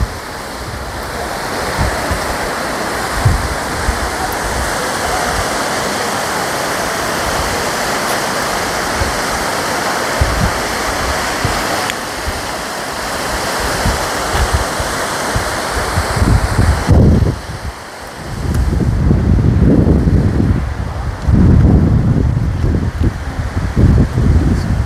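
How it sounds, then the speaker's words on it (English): Loud, steady roar of rushing water from a nearby waterfall in Michigan's Upper Peninsula, constant and full, with gusts of wind buffeting the microphone toward the end. "Go check out the waterfall."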